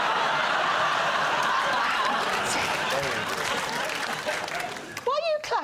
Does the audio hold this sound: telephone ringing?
no